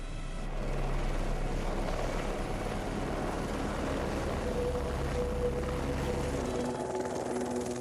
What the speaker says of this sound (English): The government recruited helicopter pilots like Hannibal to help tag, trace, and transport the deer to farms